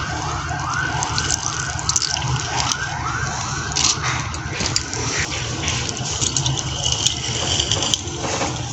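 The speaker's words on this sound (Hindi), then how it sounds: "अब हम इसको ग्राइंड करते हैं।" An electric mixer grinder blends mandi sauce with salt and fresh lemon juice, giving a loud, steady motor whine with a repeating pulsing rise and fall that runs unbroken throughout, with no talking.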